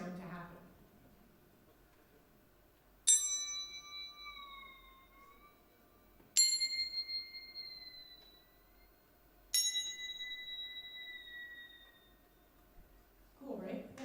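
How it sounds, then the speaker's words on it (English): A water gong struck three times at a live performance, each stroke ringing out as a bright metallic tone that bends and wavers in pitch, then slowly fades, with long quiet gaps between hits and brief murmurs at the start and end. "it's called water gong"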